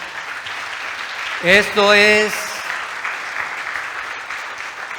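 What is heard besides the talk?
church congregation applauding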